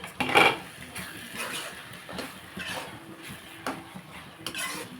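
A spoon scraping and stirring rice-flour upma in a metal pot over low heat, a sharp clank at the start followed by repeated soft scrapes and knocks, close and fairly quiet, with no talking.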